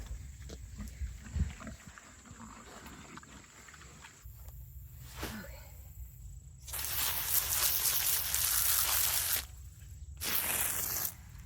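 A pig on a farm grunts and snuffles close by, with low rumbling snorts scattered through the clip, and louder broadband rustling bursts in the later part.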